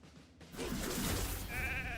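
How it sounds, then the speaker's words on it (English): A single sheep bleat from the video game Raid: Shadow Legends, a close, wavering cry that rises out of a brief quiet start and holds to the end. "it turns into a sheep"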